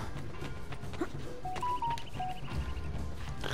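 A telephone gives a short run of keypad-style beeps, brief tones in quick succession, over steady background noise with no talking.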